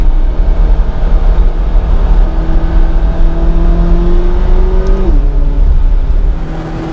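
McLaren 570GT pulling hard in a straight line on a volcano road, its engine droning loud and steady with a rising tone that drops sharply near the end as it shifts, road and wind roar underneath.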